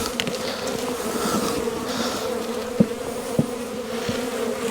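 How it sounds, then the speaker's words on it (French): Honeybees buzz steadily at a hive in December while the hives are being insulated for winter, a close continuous drone with a few soft knocks and bumps. "Le petit abeille là qui est resté."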